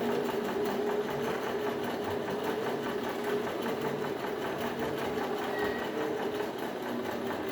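Sewing machine stitching a plain seam, a steady fast mechanical whirring hum that runs evenly throughout, close and alone with no talking.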